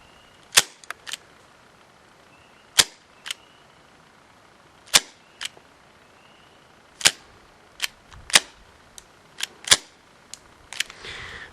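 An HFC 131B airsoft revolver fires .20 BBs outdoors in calm air, about a dozen sharp, snappy pops spaced irregularly with quiet gaps between shots.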